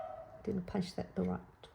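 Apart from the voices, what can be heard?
dog barking in the house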